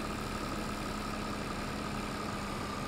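A small tractor pulling a sprayer idles in Farming Simulator 22, its engine a steady, even hum with no change in pitch or speed, heard alone without any voices.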